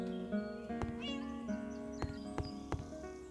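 Cats meow in the Minecraft video game, several short, tonal mews in an irregular sequence, quiet and close, with a few soft clicks between them and no talking.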